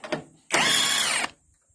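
A power tool undoes a Macpherson strut bolt on a car, a short tap of the trigger followed by a loud, steady whirring burst of under a second that then cuts off.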